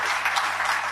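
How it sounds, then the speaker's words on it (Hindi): Applause from an audience at an event honoring a professor who set up a university's first COVID testing laboratory, a dense steady wash of clapping filling the whole second. "जोरदार तालियां होनी चाहिए"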